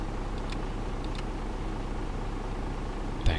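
A bus engine idles in the Bus Simulator 16 driving game, a steady low hum and rumble that holds even throughout. A short knock or click sounds near the end.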